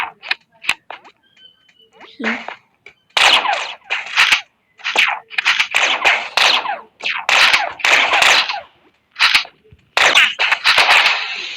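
Rapid bursts of gunfire from the video game Chicken Gun crack out in clustered volleys, loud and close, with gaps between them and a voice talking in the quiet stretches.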